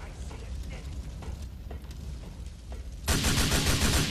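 Gunfire in Grand Theft Auto IV: a steady rattle of loud shots running throughout, jumping to a louder, denser burst of automatic fire in the last second.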